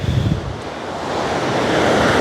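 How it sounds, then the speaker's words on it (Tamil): Sea waves roll in beside the old coastal fort and temple at Tharangambadi, a loud surging wash of surf mixed with gusty wind buffeting the microphone, building slightly toward the end. "இது அப்படியே கடல் சுற்றிலும் கடலுங்க"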